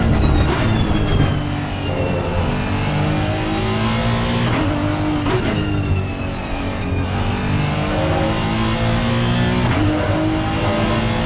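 Race car engine from Assetto Corsa Competizione on a warm-up lap at the Nürburgring, a loud continuous drone that rises and falls with revs and gear changes for the whole stretch, with no voices over it.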